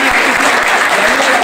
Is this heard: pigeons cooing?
no